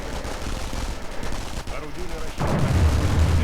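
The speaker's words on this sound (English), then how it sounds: "Lots of submachine gun fires so far." Submachine gun fire and other gunfire crackle through a strategy video game battle, with dense rapid bursts throughout and a louder, fuller barrage swelling near the end.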